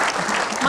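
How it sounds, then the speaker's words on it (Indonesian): Brief burst of applause from an audience at a televised Indonesian talk-show debate about the verdict for Ricky and Kuat, dense and steady clapping filling the whole short moment. "kita berikan tepuk tangan"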